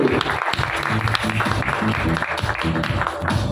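Steady applause from a large crowd fills a hotel room at an awards press conference in Mumbai, dense clapping continuing throughout with a few faint voices mixed in.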